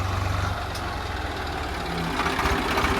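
A tractor engine idles nearby with a steady, low, throbbing rumble that holds evenly for the whole stretch, with no voices over it.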